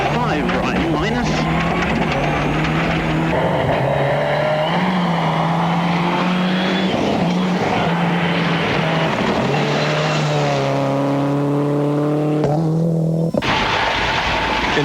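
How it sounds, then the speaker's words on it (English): A Subaru production rally car races hard through corners at a gravel rally, its engine loud and close, revving up and down with gear changes while a voice talks over it. "The action is fast and furious as he wrestles the production car through the corners."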